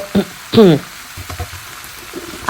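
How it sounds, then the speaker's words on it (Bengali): Mutton pieces frying and being stirred in a pan, with a soft sizzle underneath and a few brief scraping stirs, while a voice speaks briefly over the top. "এখন এটাকে কিছুক্ষণ একটু মানে ভাজা ভাজা বলতে পারেন নাড়াচাড়া করে নিব যতক্ষণ পর্যন্ত না খাসির মাংসের কালারটা চেঞ্জ হয়"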